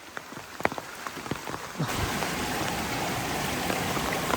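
Rain beside a river during traditional fishing in Konkan: a few scattered drops and light ambient sounds, then a steady, dense hiss of rainfall suddenly sets in and keeps going, loud and close, with no one talking.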